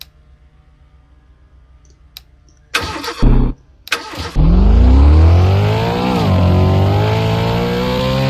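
Car engine cranking in the Roblox game Dealership Tycoon: a faint clicking, two short loud starter bursts, then the engine catches and settles into a loud, steady idle with a slight rev.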